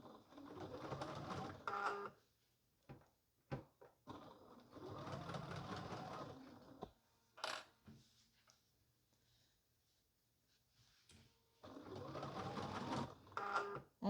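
Domestic sewing machine backstitching along quilt binding, a few stitches back and forth; a machine that is acting up a little. Three loud bursts of rapid mechanical stitching, separated by pauses holding quiet clicks and handling.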